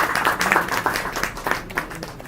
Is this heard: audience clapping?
yes